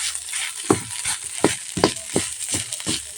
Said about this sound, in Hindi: तो साग को हम इस तरह से पूरी तरह से ठास दे रहे हैं ताकि नमक डाले हैं वो अच्छे से मिक्स हो जाए